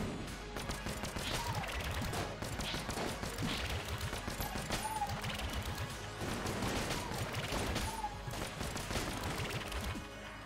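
Rapid bursts of gunfire from weak guns in the bullet-hell game Enter the Gungeon, a dense, continuous fusillade of shots and crashes with game music running underneath.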